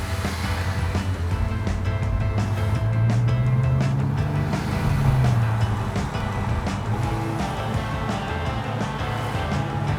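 Porsche 997 Turbo driving with gears changed in manual mode: a steady engine drone that climbs in pitch, dips at a shift and settles, heard from inside the car.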